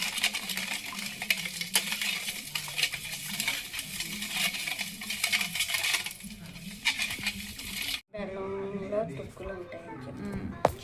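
Milk and jaggery for junnu are stirred continuously in a pot, a steady close scraping and clinking of a spoon against metal with a light sizzle, then a person talks over softer stirring.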